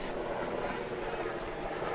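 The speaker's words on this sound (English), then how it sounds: "here comes our friendly neighborhood helicopter." A helicopter passes over a collegiate baseball field, its rotor and engine a steady broadband drone that stays loud and even throughout, with faint voices mixed in beneath.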